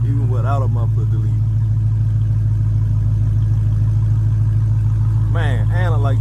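Dodge Hellcat engine and exhaust idling without a muffler delete, a deep, steady low rumble close by that runs throughout, with someone talking over it at the start and end.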